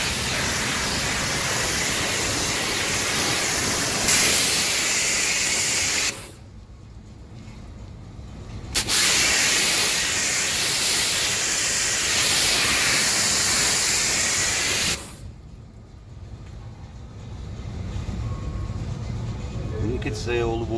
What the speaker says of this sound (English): I'll just spray it with the water.